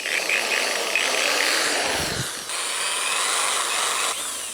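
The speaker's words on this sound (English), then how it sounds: "Time for some drilling." Power drill boring into a part during work on a Suzuki DR650 motorcycle, a close, loud, rough grinding whir that dips briefly midway and resumes steadily before easing off near the end.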